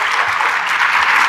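Dense applause from a conference audience at a health technology summit greets a speaker, a steady even wash of many hands clapping for a little over a second with no pauses.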